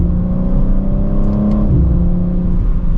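2023 BMW M4 Competition Convertible xDrive downshifting to second gear on the road, a loud, close engine note that holds steady, then dips and shifts pitch partway through amid a whirring drone.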